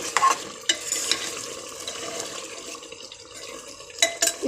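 Chicken meat being sautéed (kosha) in oil near the end of browning, a steady sizzle with sharp clatters of a stirring spoon against the pan at the start and end, no voices.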